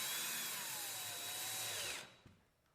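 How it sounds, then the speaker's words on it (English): A power drill whines steadily for about two seconds while driving screws into a security camera mounting bracket on a drywall surface, then spins down and stops, fairly quiet and close. "we're going to go ahead and screw in the mounting bracket"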